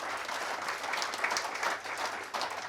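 Applause from an audience during a Newcastle United football club talk show, a dense, steady wash of many hands clapping, fairly close and unbroken throughout.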